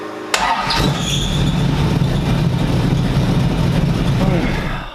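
A car engine cranks briefly after an ignition repair with a fresh distributor and new spark plugs, then catches and settles into a loud, rumbling idle held close to the microphone.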